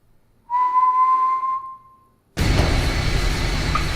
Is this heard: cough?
no